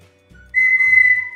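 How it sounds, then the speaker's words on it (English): A homemade whistle cut from a reed, blown gently through one end, sounds one steady, clear, fairly loud tone close by. It holds for about a second after a short breathy start. "All we need to do is blow gently through the end of the whistle."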